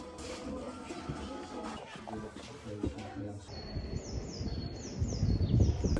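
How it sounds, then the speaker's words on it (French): Birds chirp outdoors on a warm late-spring or early-summer day, with high repeated tweets entering partway through over low rustling and background noise. "Ce bruit d'oiseau, ça veut juste dire que l'été est là."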